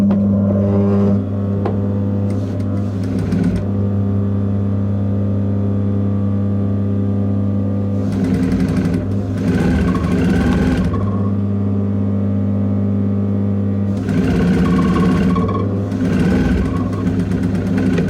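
A sewing machine stitching a French seam on two pieces of fabric placed wrong sides together, a steady mechanical hum with loud bursts of rapid stitching that start and stop several times, close and without talk.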